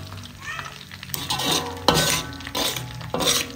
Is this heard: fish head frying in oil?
yes